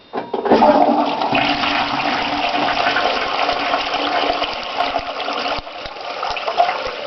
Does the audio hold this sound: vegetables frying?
no